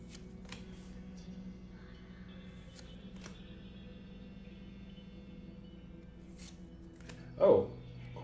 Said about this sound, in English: 6 Silver Tempest packs and 1 Fusion Strike pack that I'm going to open up.